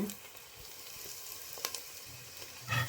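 Tempering with curry leaves sizzling in hot oil, a steady close frying crackle with a brief louder burst near the end; no talking.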